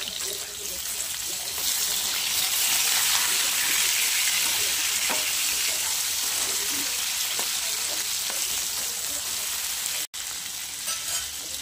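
Plenty of garlic and some chana dal frying in hot oil for green tomato chutney, giving a loud, dense, continuous sizzle with a brief break near the end.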